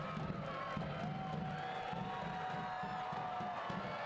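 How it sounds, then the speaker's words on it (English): A soccer stadium crowd applauds a player being substituted off, a broad, distant wash of clapping and cheering that holds steady throughout. "Terzaghi getting a round of applause"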